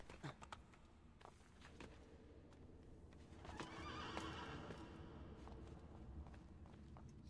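In the video game Assassin's Creed Brotherhood, a horse whinnies and hooves clip-clop in an uneven walking rhythm, fairly faint against a low ambient game backdrop.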